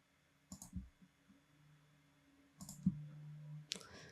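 A computer mouse clicks a few times at close range during graphic design work in Illustrator, sharp isolated clicks spread across a quiet background with no speech.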